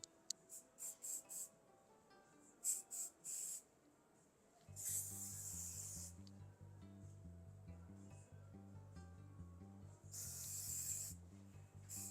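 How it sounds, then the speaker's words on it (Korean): Hair spray misted onto freshly cut short hair in a barbershop: several quick short bursts, then two longer sustained hisses, with clicks and low handling noise between them. "스프레이 조금 뿌릴게요."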